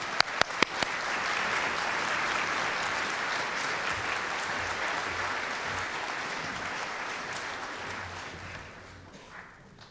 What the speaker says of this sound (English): Thank you for who's ever still clapping out there.